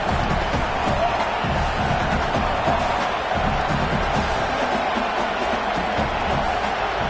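A stadium crowd roars continuously at a college football game, a loud, dense wash of cheering and noise with no breaks.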